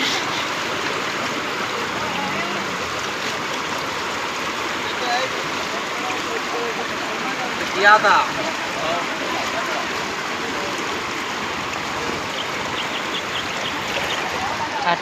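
Fast-moving flooded village river water rushes in a steady, broad roar, with faint voices in the background and a brief louder splash midway.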